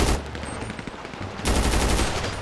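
Rapid bursts of AK rifle fire in the video game GTA 5 roleplay, loud and close, a long stuttering volley, a brief lull, then a second sustained burst.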